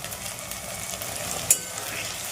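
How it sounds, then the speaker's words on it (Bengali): Tomato stirred into frying ginger, onion and garlic in a pan for a chicken dish, a steady close sizzle with one brief sharp clink of a spoon, no talk. "দেখো আমার আদা পেঁয়াজ রসুন ভাজা ভাজা হয়ে এসেছে এবার আমি এই দেখো টমেটোটা এর মধ্যে দিয়ে দিলাম"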